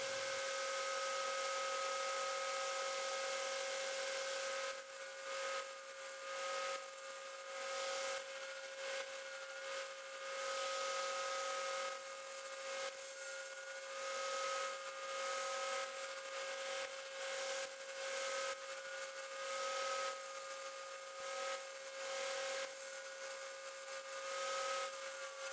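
Wood and antler knife scales on a san mai knife being sanded with a coarse grit, a steady abrasive rubbing hiss with motor hum that rises and falls in rhythmic passes throughout.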